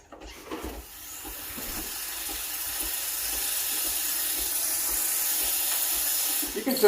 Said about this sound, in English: I'm gonna get some cold milk. Turn on the steamer.